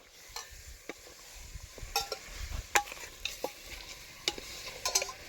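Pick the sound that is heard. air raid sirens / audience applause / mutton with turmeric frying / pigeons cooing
mutton with turmeric frying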